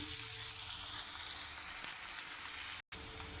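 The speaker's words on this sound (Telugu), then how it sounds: "ఆనియన్ కొంచెం లైట్గా వేగనివ్వాలి" Onions fry gently in a pan with oil, giving a steady, soft, even sizzle throughout, cut by a brief moment of silence near the end, with nobody talking.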